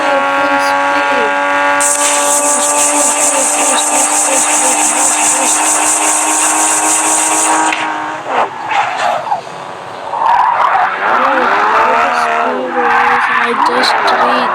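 A car in the Drive Zone Online racing game runs flat out in sixth gear, a loud sustained high-revving engine whine that drops away into tyre squeals and skidding, with a voice talking over it.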